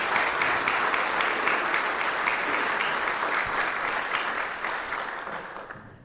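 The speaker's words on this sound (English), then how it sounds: "Let's give our employees a round of applause for that." An audience at a city's State of the City address in Moline applauds staff and employees, steady dense clapping that holds for several seconds before tapering off toward the end.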